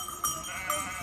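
A sheep bleating sound effect, two wavering nasal bleats close together and fairly loud with a faint background hiss under them.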